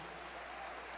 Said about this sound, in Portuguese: Uma salva de palmas também para o pastor Ed René